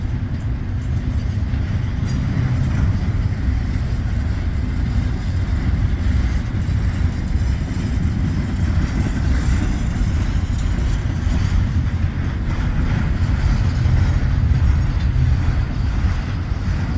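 Long intermodal freight train rolling slowly out of an intermodal yard, giving a continuous heavy low rumble with steady clattering of wagons that stays constant and fairly close throughout.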